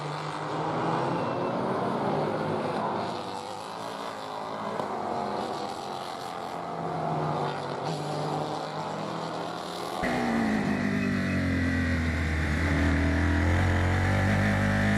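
F4 race cars roar past on the COTA circuit, a sustained engine whine that swells and shifts as cars work by, with a louder, lower pass building toward the end.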